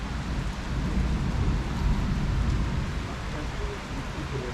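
Steady heavy rain pours with a deep rolling rumble of thunder beneath it, a dense continuous wash of sound.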